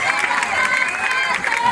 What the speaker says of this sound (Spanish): Aplauso para la banda.